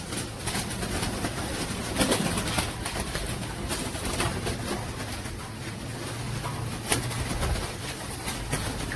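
Royal Teddy pigeons coo steadily in a busy loft, a low rolling murmur that runs the whole time with no one speaking.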